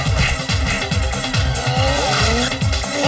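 A cartoon car squeals its tyres and roars off, loud revving engine with rhythmic pulsing, a rising screech near the end, no voices over it.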